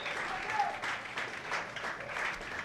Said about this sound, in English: You can hear a lot of cheering